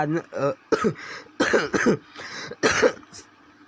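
A series of harsh, close coughs in short bursts, several in a row with brief pauses between them.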